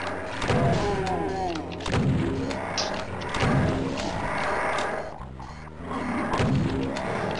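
Doom gameplay with repeated heavy weapon fire and monster noises, loud thumping shots recurring in bursts roughly every second and a half, with mechanical clanks and a brief lull near the end.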